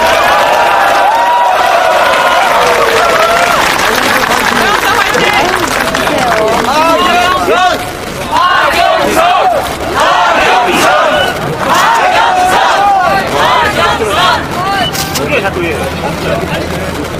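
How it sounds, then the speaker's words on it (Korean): Large outdoor political rally crowd in Korea cheering, shouting and applauding loudly and continuously, a dense roar of voices and clapping that barely dips throughout. "여러분 뜨거운 함성과 박수로 맞이해주시기 바랍니다"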